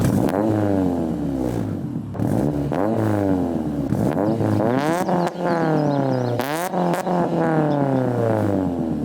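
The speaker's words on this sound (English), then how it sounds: "I'll go out there and get some revving for you guys real quick." A Honda Civic Si engine with aftermarket PLM headers revs repeatedly, rising and falling in pitch with a raspy, throaty exhaust note, loud and close, outdoors in wind, with no talking.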